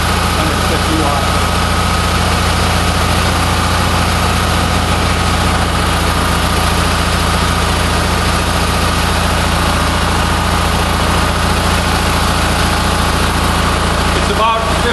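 A JXQ-10 generator engine runs under a load of about 150 watts outdoors in cool weather, a loud, constant droning hum with steady vibration throughout, no change in pace.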